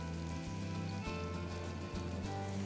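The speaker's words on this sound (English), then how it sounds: "I'm just gonna finish frying these." Continuous crackling sizzle of food frying in hot oil, dense and even, with a low hum underneath.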